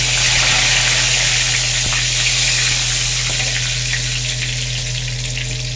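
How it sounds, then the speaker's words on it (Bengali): Whole spices and two bay leaves hit hot oil in a wok for a mutton curry, giving a loud, steady crackling sizzle that holds evenly throughout with no talk. "এবার গোটা মশলাগুলো তেলের মধ্যে দিয়ে দেবো আর দুটো তেজপাতা দিয়ে দিলাম।"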